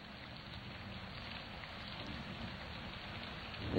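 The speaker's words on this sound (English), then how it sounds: "It's raining." Steady rain hisses continuously, a dense, even wash of drops on a surface, close and unbroken, with no voices.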